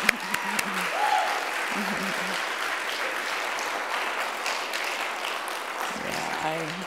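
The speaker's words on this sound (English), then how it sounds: "I celebrate the applause with you on that one." An audience at a Seattle poetry reading breaks into sustained applause, a dense, steady roar of many hands clapping for several seconds, with voices briefly calling out at the start and end.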